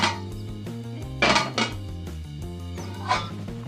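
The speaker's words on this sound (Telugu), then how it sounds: "ముందుగా స్టవ్ వెలిగించుకొని గిన్నె పెట్టుకుంటున్నాను" A cooking pot clatters onto a lit stove in a home kitchen while a methi egg curry is being started, with a few sharp metallic knocks over a steady low hum.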